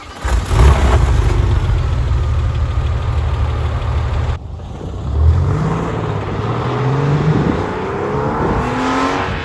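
An air-cooled 1998 Porsche 911 Carrera S (993) engine runs loud and close, with a steady idle-like drone at first, then a break followed by rising and falling revs.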